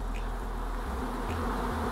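Bees buzz continuously and close by, a dense, unbroken drone with no talking.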